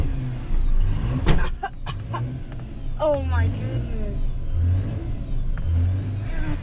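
A 2004 Mazda RX8 with a B13 rotary engine that had refused to start fires up and revs in rising bursts, loud and close, with people talking and exclaiming over it.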